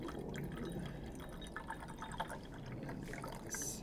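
Steeped Kobataen sencha tea is poured into a glass, a steady soft trickle of liquid that runs continuously for a few seconds, quiet and close, with small drips toward the end.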